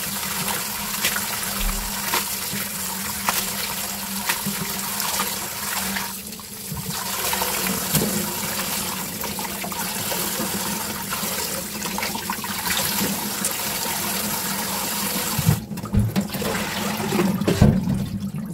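Spinach being rinsed under a running tap, a loud continuous gush of water splashing into a bowl or sink for the whole stretch, with brief bumps and handling noises.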